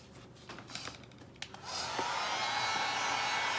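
Hair dryer drying leaves switches on after a few soft handling clicks and then blows in a steady, loud, close whoosh that lasts to the end.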